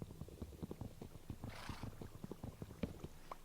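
A horse in Minecraft trotting, with a quick run of soft clip-clop hoofbeats and a brief snort or whinny partway through, all fairly quiet.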